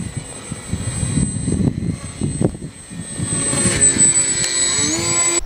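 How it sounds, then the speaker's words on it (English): A radio-controlled plane powered by twin Grayson Hobby 2212 motors in counter-rotating tractor layout, giving a steady high-pitched electric motor whine that holds and rises slightly, with rustling outdoor noise and thumps underneath. "Counter-rotating tractors are really awesome for flying planes."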